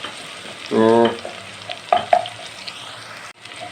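Finely chopped onions sizzle in hot oil in a pan as they are cooked to light brown for a kadhi recipe, with a brief stir and faint clinks, under a single short spoken word.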